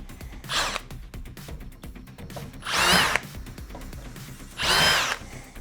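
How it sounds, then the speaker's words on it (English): A power drill bores new holes in a deck, three separate bursts of whining drilling with short pauses between, close and loud, with faint clicks and handling noises in the gaps. "the deck so we can drill it and drill our new holes"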